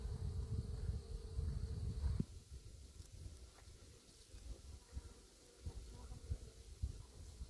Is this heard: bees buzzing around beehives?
yes